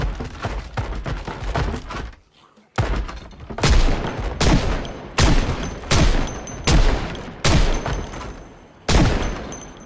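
Gunfire in the game Cataclysm: Dark Days Ahead, a string of loud, close shots with heavy booming bodies, spaced about a second apart after a brief pause, with no voices.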